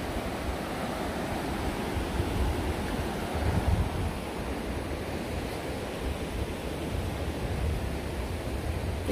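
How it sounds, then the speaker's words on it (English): A river at Elkmont in the Great Smoky Mountains rushes steadily, a broad, even wash of flowing water that stays constant and moderately distant throughout, with no voices. "Just listen to that water."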